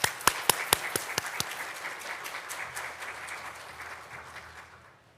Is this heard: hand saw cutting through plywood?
no